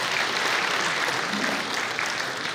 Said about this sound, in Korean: 박수 보내주시고요